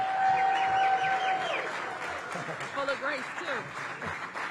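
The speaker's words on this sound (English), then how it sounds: "Give a round of applause to our mayor, Muriel Bowser." An outdoor crowd at a groundbreaking for a community space applauds Mayor Muriel Bowser, a moderate wash of clapping that fades gradually while voices and cheers mix in underneath.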